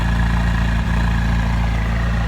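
A McLaren 570S exhaust settles into a loud, steady low idle rumble with an even pulsing drone and no other sounds.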